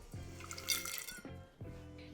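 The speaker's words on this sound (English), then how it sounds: "I'm just adding a little bit of water" Hot water poured into a single-walled glass French press to preheat it, a bright trickling splash with glassy ringing tones, close and fairly quiet, in a few short pours separated by brief pauses.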